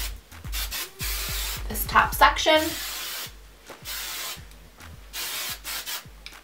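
Hair spray hissing onto freshly curled wavy hair in bursts up close: several spray blasts come before and after a short spoken remark.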